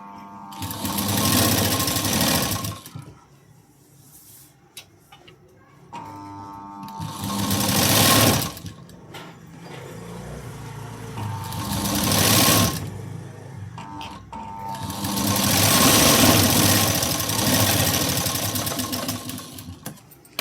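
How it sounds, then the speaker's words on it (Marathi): Sewing machine stitching a katori blouse in bursts: four loud runs of rapid whirring stitches separated by quiet pauses, close up. "लगेचच डबल शिलाई देऊन घेऊया."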